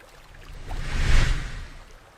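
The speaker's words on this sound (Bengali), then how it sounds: "নৌকাটি চলতে শুরু করল কুন্তিপুর গ্রামের উদ্দেশ্যে।" Cartoon boat on a river, a short watery whoosh that rises to a loud rumbling swell midway and then fades out, heard alone.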